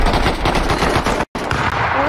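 Rapid automatic gunfire in a first-person survival video game rattles loud and close in a dense, continuous burst, broken by one brief silent gap before the shooting resumes.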